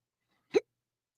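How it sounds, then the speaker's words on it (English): A single sharp hiccup from a woman, one brief close burst standing alone in an otherwise quiet room. "I got the hiccups now"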